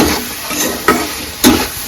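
Cauliflower with a pinch of turmeric sautéing in a hot pan: a steady sizzling hiss broken by two sharp spatula strokes, close and loud, without any talking.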